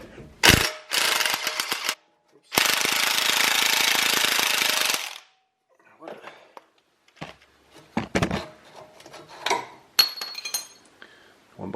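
A power tool removes a pinch bolt on a VW T6 van's suspension: a short loud rattling burst, then a longer sustained burst of about two and a half seconds, followed by scattered metallic clinks and taps.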